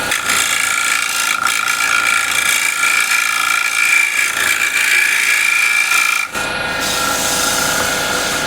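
A standard scraper drags continuously across the inside of a wooden bowl spinning on a lathe, producing a steady, harsh, grinding rasp with a brief dip near the end.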